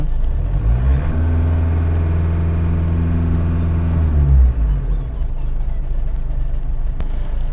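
Skoda Octavia A7 diesel engine idling with a steady low rumble, a brief rise in pitch like a light rev midway, then settling back to a quieter idle.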